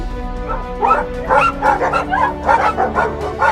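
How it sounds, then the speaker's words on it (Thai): Stray dog barking repeatedly, a run of sharp, fairly close yaps and barks in quick, uneven rhythm. "นั่นหมาจรมาแต่ไหนเนี่ยเห่าส่งเสียงดังน่าลำคาญ"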